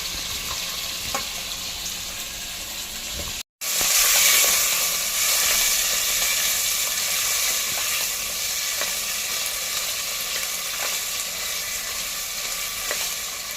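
Beetroot, carrot and potato pieces sauté in butter for pav bhaji, giving a loud, steady frying sizzle close up, briefly cut off near the start, then continuing evenly with faint stirring ticks.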